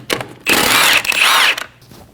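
A power tool with a 17mm socket spins off wheel lug studs on a 2012-2022 Volkswagen Passat, giving two loud, close whirring bursts of about half a second each, separated by a brief pause.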